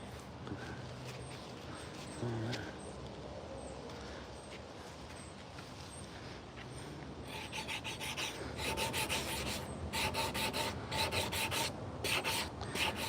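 Rasp and sandpaper working a carved wooden teaspoon with a natural curve, steady scratchy rubbing strokes that grow louder and more rhythmic in the second half, close up.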